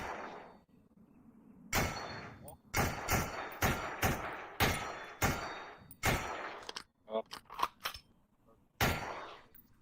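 Rifle fire in a video game rings out as a string of sharp, loud single shots spaced irregularly, with a quick cluster of rapid shots partway through and a final crack at the end.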